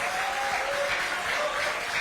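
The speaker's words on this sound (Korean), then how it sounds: "박수 한번 주십시오" Audience in a Korean political gathering applauds steadily, a dense wash of clapping that holds loud and even throughout, with a faint voice trace early on.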